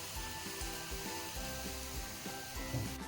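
Onions fry to golden brown in a pan for keema biryani, giving a dense, steady, close sizzle with small crackles throughout.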